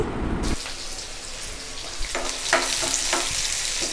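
Onions and two halved green chillies frying in hot oil for a garlic curry, a steady close sizzle with light stirring scrapes and a few clinks, no one talking.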